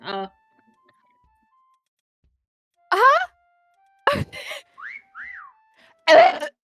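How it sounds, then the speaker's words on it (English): Whistles from players in the video game Meccha Chameleon sound in short, separate bursts, some sliding tones rising and falling, with brief voices between them over otherwise silent gaps. "It makes me like uncomfortable hearing all the whistles at once."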